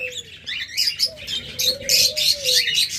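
Pet birds in a shop holding cockatiels, lovebirds, budgerigars and doves chirp in quick bright bursts close by, one clearer whistled note rising and falling beneath the busy tweeting.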